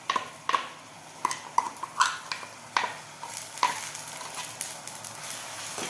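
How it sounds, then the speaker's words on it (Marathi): A spoon stirs ground masala paste as it sautés in oil for chana masala, with a soft sizzle beneath a series of sharp scrapes and clinks against the pan, close and steady. "वाटण छान तेलामध्ये 3 ते 4 मिनिटे परतून घ्यायचं आहे"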